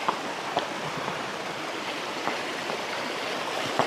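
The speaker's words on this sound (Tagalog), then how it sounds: "Mga mini falls." A small waterfall feeds a stream at a hidden lagoon, pouring out a steady, full rushing hiss with faint splashes, close and continuous throughout.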